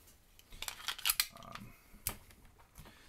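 A Walther P22 pistol is function-checked, its metal action producing a quick series of sharp, faint clicks and light metallic clacks at close range, with no talking.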